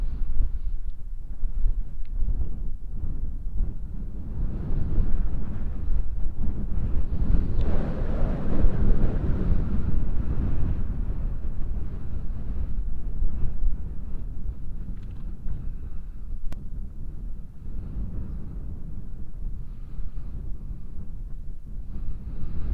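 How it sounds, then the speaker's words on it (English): Wind rushing through an open safari vehicle on the move, a loud continuous low roar and buffeting that swells midway and then eases slightly, with no voices. "now it's cooled off quite nicely with the wind coming through"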